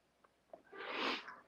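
A single sneeze, with two faint breathy intakes leading into one loud, close burst that fades quickly.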